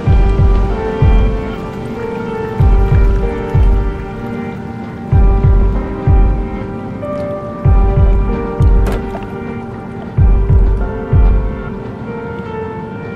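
A train ride in the video game Half-Life: Black Mesa gives a steady rhythmic clatter of heavy thumps repeating about every second over a loud, droning mechanical hum, with no talking.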